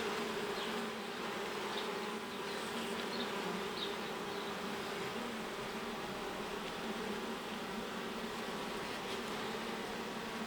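A dense, steady buzz of many honeybees at an alpine beehive during spring honey extraction, continuous and close throughout with no talk.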